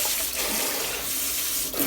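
Tap water runs steadily into a bowl while basmati rice is washed, a continuous close, bright splashing gush with no voices.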